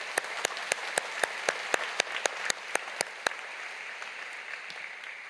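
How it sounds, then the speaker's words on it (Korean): A church congregation claps, a few sharp close claps in a steady beat standing out above a fainter, softer spread of applause that thins toward the end. "모든 이들을 위해서 우리 박수 한번 보실까요?"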